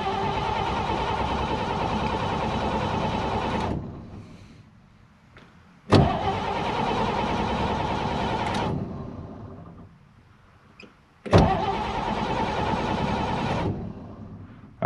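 A 1950 Chevy Styleline coupe engine cranks but fails to start, three long bursts of loud, steady starter churning, each cut off abruptly with quiet gaps between attempts.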